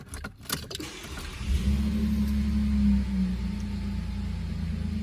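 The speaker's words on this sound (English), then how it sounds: "Let's fire the truck up here." 2019 GMC Canyon SLE pickup truck engine starting after a few faint key jingles, the starter catching into a loud steady idle rumble that settles and holds close by.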